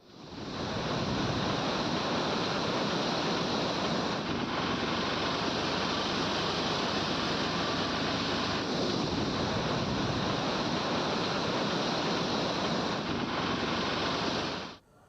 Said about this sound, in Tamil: இதனால் அருவிகளில் தண்ணீர் ஆர்ப்பரித்து கொட்டுகிறது